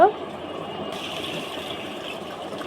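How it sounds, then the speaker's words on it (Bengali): Rice being washed in water for beef biryani: a steady close swish and rush of water running and sloshing through the grains, continuous without pause. "এই তো চালটাকে ভালোভাবে ধুয়ে নিতে হবে যেন কোনো ময়লা না থাকে চালে"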